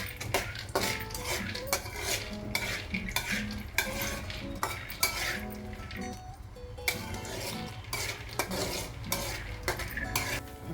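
Peanuts fry in about three spoons of hot oil while a spoon scrapes and stirs them around a metal pan, giving repeated clinks and scrapes over a soft, steady sizzle, close and fairly quiet.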